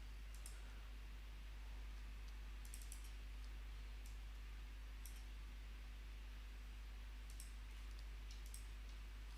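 Computer keyboard keys and mouse buttons click in short, scattered bursts of several quick taps, fairly quiet over a steady low electrical hum and background hiss.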